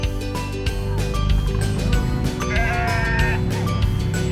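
Sheep on a farm in Wonosobo bleat again and again, several close, wavering calls one after another with no talk.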